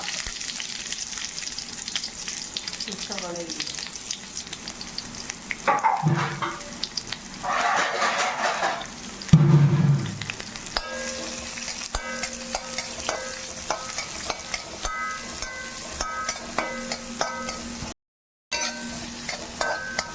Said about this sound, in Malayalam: ഇതിൽ 2 സവാള ഇതും കൂടെ കൂട്ടി 2-3-4 മിനിറ്റ് വാട്ടിയാൽ മതി കേട്ടോ